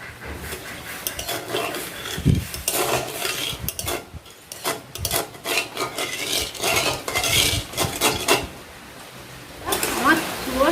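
A spoon stirs half a bowl of sugar and half a bowl of water in a pan into sticky syrup, giving close, irregular metallic scrapes and clinks against the pan, with someone speaking over it.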